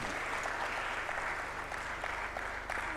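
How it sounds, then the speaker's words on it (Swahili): A room full of people clapping for a woman named Moza at a Women in ICT Day opening session, continuous and fairly loud, a dense even wash of hand claps with no voices over it. "Naomba makofi ya kutosha kwa Moza."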